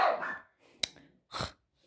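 Dogs bark indoors in a few separate sharp bursts, with a brief yip between, moderately near, followed by quiet gaps.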